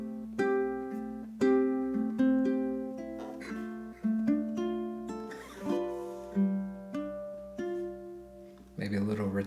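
A ukulele plays the bridge ending of a song, with plucked and strummed chords ringing out and decaying in a slow, even rhythm, closing on a brighter final strum.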